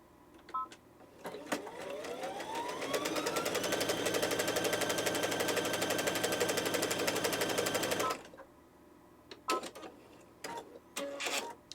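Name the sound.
BabyLock sewing machine sewing a wide stitch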